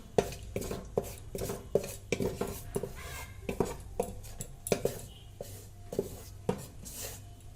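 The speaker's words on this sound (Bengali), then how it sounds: "গরম মশলা আর 2 টুকরো লবঙ্গ দিয়ে নিব। নেড়ে চেড়ে একটু ভেজে নিব।" Garam masala and cloves being fried in a pot, with a spoon scraping and knocking against the metal in a brisk, steady rhythm of close stirring strokes.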